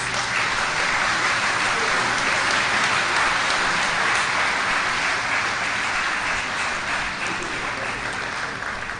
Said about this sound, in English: Let's keep clapping until he sits.